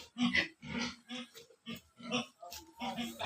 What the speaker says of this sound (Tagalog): May gusto sa inyong bumili ng baboy, buntis na.